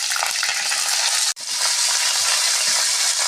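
Chopped eggplant and cauliflower leaves hit hot oil with cumin in a village-style fish curry, giving a loud, steady crackling sizzle that breaks off briefly once and then resumes at full strength.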